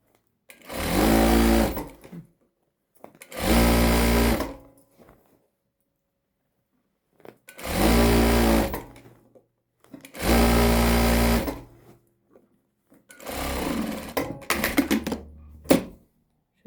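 A sewing machine stitches the seams of Adana şalvar trousers in five loud, close bursts of whirring motor, each one to two seconds long, separated by silent pauses, with the final run stuttering.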